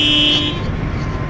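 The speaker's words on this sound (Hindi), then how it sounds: "कराची में आपको हर जगह ट्रैफिक जाम मिलेगा" A car horn blares in a Karachi traffic jam, one sustained honk lasting about half a second, loud and close over a steady roar of engines and road noise.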